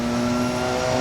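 Porsche 919 Evo race car engine at a steady, loud high-pitched drone, strong harmonic whine held throughout a brief moment.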